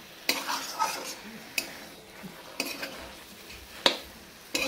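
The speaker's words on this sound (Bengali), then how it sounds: "দেখুন কচুর শাকটা আমরা কীভাবে ভাজছি।" Taro leaves stir-fried in a pan give a soft continuous sizzle, broken by several sharp scraping clacks of a spatula against the pan at irregular intervals, close and fairly quiet with no talking.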